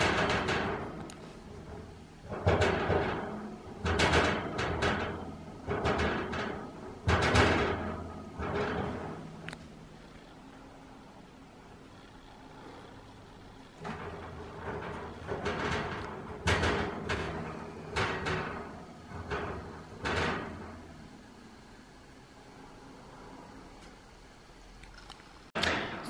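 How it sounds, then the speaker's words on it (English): Pet rabbits chew and bite at the bars of their cage, making irregular rattling, clattering bursts in uneven clusters with short pauses between, close by and fairly loud in an otherwise quiet room. "my rabbits are biting their cage"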